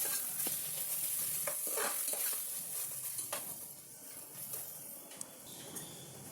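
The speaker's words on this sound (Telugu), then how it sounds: "ఈ అల్లం వెల్లుల్లి పేస్ట్ పచ్చివాసన పోయే వరకు వేయించుకోవాలి." Ginger garlic paste frying with onions in a pan for a boti and tomato curry, giving a continuous close sizzle broken by frequent scraping spatula strokes and small clinks against the pan.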